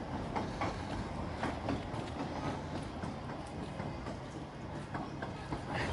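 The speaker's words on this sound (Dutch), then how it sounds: "Daar gaat het treintje." A small amusement park train rolls past at the Efteling theme park in winter, heard faint and somewhat distant as a soft rumble with a light, repeating clickety-clack of wheels on rails.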